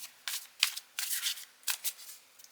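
Several quick bursts of tarot cards being shuffled close up, crisp riffling rustles separated by short pauses.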